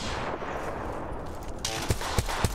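Gunfire in the video game Apex Legends: loud bursts of shots with a few sharp, separate cracks standing out near the end of the stretch.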